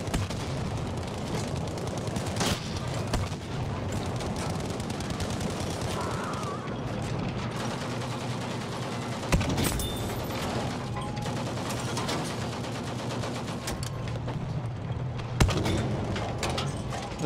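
Continuous tank gunfire in Battlefield 5, a dense rapid stream of shots layered over a rumbling engine and battle noise, with a couple of louder sharp bangs standing out.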